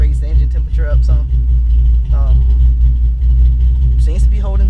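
A car with an overheating problem idles and is revved lightly to raise its engine temperature, a close, steady low rumble that swells slightly, with a person talking over it throughout.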